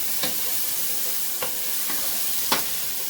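Bacon fries in a pan with a steady bright hiss, punctuated by a few sharp pops and crackles, close and unbroken, with no voices over it.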